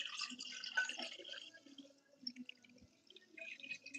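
Water is poured into jars with soft, uneven splashing and trickling, close and fairly quiet, fading in and out in short runs as the pour stops and starts.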